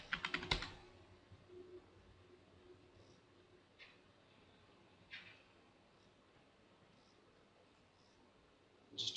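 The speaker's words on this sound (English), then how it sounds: "Just type the password here." A password typed on a computer keyboard during work in an SAP system, with a quick cluster of key clicks at the start, a few isolated taps after it and another short burst at the end, faint and close in a quiet room.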